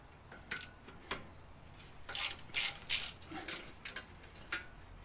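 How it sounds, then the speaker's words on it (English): A 10mm ratchet wrench cranks on tight brake disc screws during a brake upgrade on a Mitsubishi NL Pajero, giving several bursts of close, rapid pawl clicking. "So what I like to do is just crack them with a 10mm."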